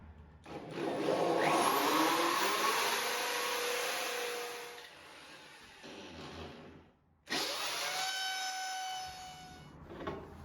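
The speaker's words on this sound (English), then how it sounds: "continue to drill further if needed." A power drill whines loudly into a wall for several seconds, pauses, then starts again with a higher steady motor pitch.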